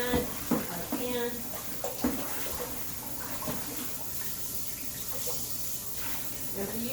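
Running tap water splashing over a baking pan being washed at a sink while baking brownies, a steady rushing stream broken by irregular clunks and scrubbing, with a person talking over it.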